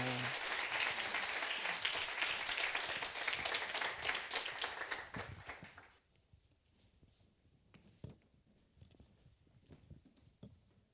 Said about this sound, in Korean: 우리 전도사님 나오실 때 큰 박수로 환영하면서 우리 밤에 귀한 은혜를 끼쳐주세요